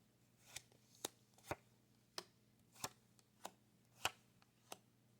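A deck of playing cards being cut and handled, a series of about nine quiet, crisp slaps and taps spaced roughly half a second apart, close by with no talk.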